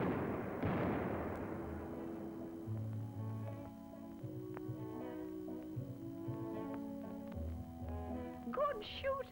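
Hunting gunshots ring out in an old vintage film, with one loud boom that rolls away and fades, followed by a low hum and faint rumbles.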